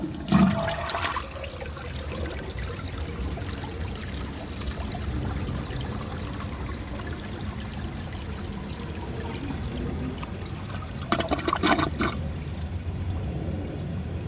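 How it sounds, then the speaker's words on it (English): A 1974 Eljer Sanus low-tank toilet flushes with a rushing pour of water that keeps an even strength, then trails off into a weaker trickle and gurgle near the end. "The flush stayed normal, but it was a little bit weaker at the end"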